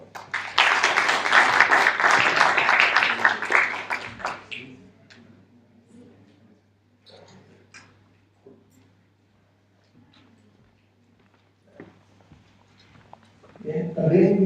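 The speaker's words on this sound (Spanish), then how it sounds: "Aplausos, por favor." Panelists at a local-content heritage forum are greeted with dense, loud audience applause that lasts about four seconds, then fades into quiet room sounds and scattered movement before another burst of noise rises at the end.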